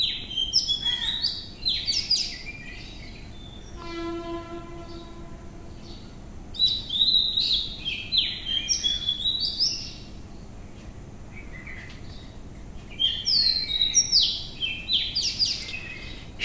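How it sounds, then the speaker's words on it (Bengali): Small birds chirp and twitter outdoors at dawn in bright, busy bursts that come and go over several seconds, with a brief steady tonal call in between and a quiet background otherwise. "তোমাদের সুন্দর মিষ্টি মিষ্টি পাখির ডাক শোনাবো বলে"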